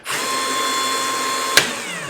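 A magnetic drill press clamped by its magnet base whirs up and holds a steady motor whine with a faint high tone, broken by a single sharp click near the end.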